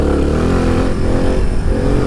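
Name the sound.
Suzuki DR 350 motorcycle engine throttle blip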